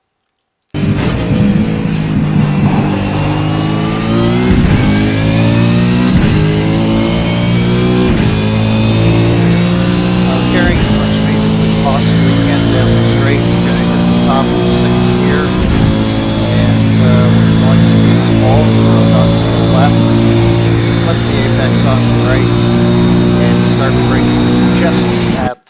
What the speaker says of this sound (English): This is very, very heavy braking, and we're going to downshift into second gear into the left-hander.